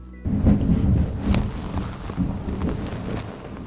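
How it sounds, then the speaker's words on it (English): Low rumbling thunder with gusty wind and rain noise, a steady dark roar with a few sharper cracks. "Maybe a thunderstorm."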